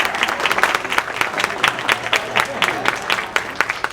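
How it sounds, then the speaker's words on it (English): An audience at a school staff preservice gathering claps, with a brisk, moderately loud round of applause made of distinct overlapping claps that continues steadily throughout. "Like a little applause."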